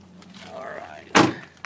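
A 2003 Ford F350 extended-cab pickup with a 6.0 engine has its passenger-side rear door swung shut, one solid thud after a brief quiet rustle, heard close and alone.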